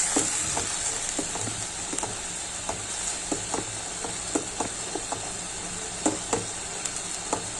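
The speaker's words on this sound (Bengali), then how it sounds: "দিয়ে আমি ভালো করে নেড়ে মশলাটাকে কষিয়ে নিব।" Spice masala with chili powder and salt, cooked for a bele fish jhuri, fries in a pan under a steady hiss, with scattered sharp scrapes and taps of the spoon as it is stirred.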